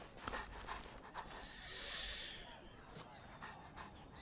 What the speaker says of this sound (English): More dogs I can't pet.